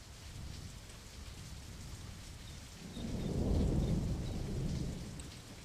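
Video game thunderstorm: a steady hiss of rain under a soft low wash, then a rolling rumble of thunder building from about three seconds and slowly fading away, moderately faint overall.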